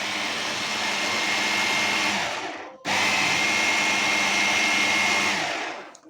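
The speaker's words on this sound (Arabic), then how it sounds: "حطينا الباقي البصل والفلفل ونضربهم مع بعض" An electric blender whirs loudly as it blends onion and pepper. Its steady motor roar cuts out briefly midway, then restarts and runs on before winding down at the end.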